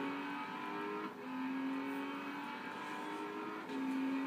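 An Aston Martin DBS in a racing video game holds a steady, sustained engine drone with a tonal whine that shifts pitch slightly twice, as if changing gear. It is moderately loud and heard alone.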